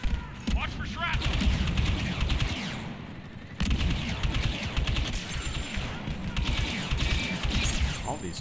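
Rapid turret gunfire rattles in Star Wars Battlefront 2 during a carrier battle, continuous bursts of shots with booms and game effects, and voices are heard over the action.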